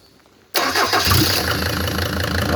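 Mercedes OM602 2.9-litre five-cylinder diesel started without glow plugs: near-quiet, then a sudden loud catch as the engine fires and settles into a steady close, clattering idle.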